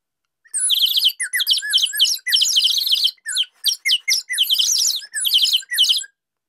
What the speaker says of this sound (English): this is called a nightingale call and it's actually also Acme